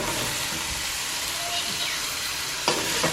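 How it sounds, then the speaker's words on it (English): Mangoes sizzle in a pot with curry spices for a Guyanese seven curry, a steady frying hiss broken near the end by a sharper stirring scrape. "you're just gonna stir it, get it all coated up, and allow it to fry up or bunjay with all the spices"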